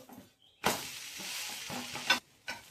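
An onion uttapam fries on a hot pan, giving a steady close sizzle that swells in a broad hiss for about a second and a half, then cuts off, with a brief second burst just after.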